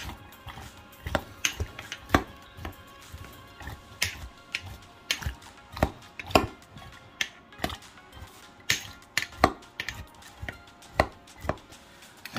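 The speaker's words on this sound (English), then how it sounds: "you're gonna use your knife and you're just gonna push down on the peppers" A knife presses down on hot peppers for a Jamaican jerk marinade, giving a series of sharp, irregular taps against a cutting board, close and fairly quiet.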